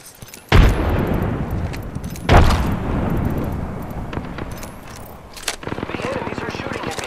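Frag grenades go off in a video game, two heavy booming blasts a couple of seconds apart, followed by scattered crackling shots with voices talking.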